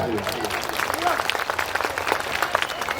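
Gathering at a religious discourse event clapping after someone is honoured on stage, brisk applause heard under a voice speaking over a microphone, with a low hum in the background.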